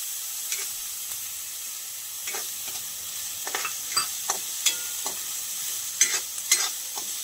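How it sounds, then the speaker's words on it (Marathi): Onion sautéing in a little oil, stirred constantly: soft steady sizzling under repeated scraping and clattering strokes of a spoon against the pan, growing busier toward the end, no voices. "कांदा परतताना सतत हलवत राहायचं आहे जेणेकरून त्याला छान प्रकारे सोनेरी रंग येईल"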